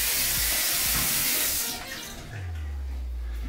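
A chrome faucet in the bathroom of a luxury duplex apartment runs steadily as hands are washed, a loud, close rush of water that fades after a couple of seconds into a low, even hum.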